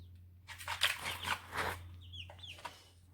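Small young chickens clucking close by in a few short bursts, with soft squawks and chirps between them and a steady low hum underneath.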